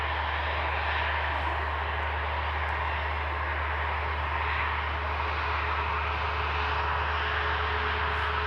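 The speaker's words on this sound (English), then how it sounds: "Trying to vacate nice and early. Ryanair 737." A Ryanair Boeing 737 jet rolls out after landing, its engines a steady, dense roar with a low constant hum underneath, continuous and fairly close with no talk over it.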